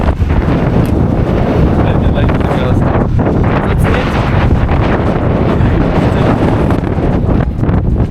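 Strong wind roars loud and steady throughout a sand storm in Texas, battering a pickup truck with constant buffeting gusts and rushing blowing sand noise.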